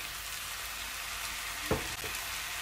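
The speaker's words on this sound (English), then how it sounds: "Put the mixed veg in." Mixed vegetables tipped into seasoned curry rice frying in a pan: a soft, continuous sizzle with one brief clatter as they drop in, fairly quiet overall.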